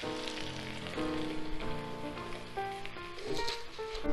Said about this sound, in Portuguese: a gente fritou bem a linguiça aqui, a carne moída